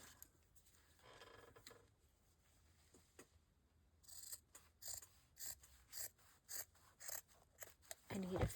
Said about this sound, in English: fabric scissors.